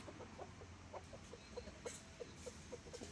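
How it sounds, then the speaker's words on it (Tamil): A ten-month-old rooster clucks softly in a rapid series of short, faint notes over a quiet background hum. "அந்த சேவலை பார்ப்போம்."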